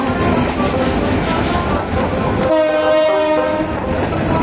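A loud train with old railway stock rumbles past close by, then its horn blares in a sustained, harmonic blast over the rolling wheels.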